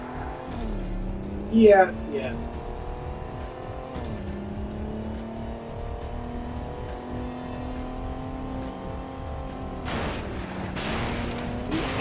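Video game cars in a police pursuit driving against oncoming traffic: engine tones rise and fall with gear shifts, a brief tire squeal, and a whooshing pass near the end, with someone talking briefly over it.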